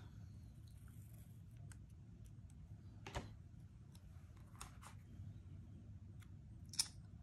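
Scissors trimming paper for an A5 creative weekly planner journal, a few faint, quiet snips and clicks spread sparsely over low background hiss, with one sharper cut near the end.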